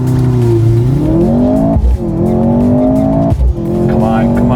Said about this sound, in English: Foot to the ground, race start, and go.